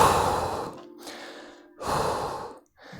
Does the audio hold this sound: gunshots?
no